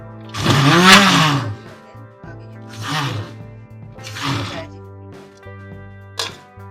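An electric chopper runs in short loud bursts, three main pulses and a brief final one, as it chops green coriander with green chillies and garlic.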